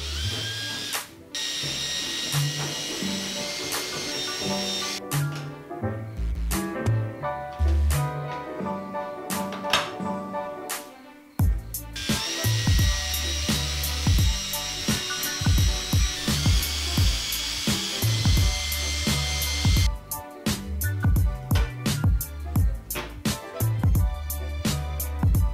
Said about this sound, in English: now we're gonna drill out the holes for the 6 screws around the side